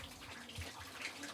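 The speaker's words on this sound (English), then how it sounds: "the sound of running water soon makes it clear Siberia's permafrost is melting" Water running as Siberian permafrost melts, a soft steady trickle and gurgle that carries on without a break, faint and fairly close, with small drips on top and no voices.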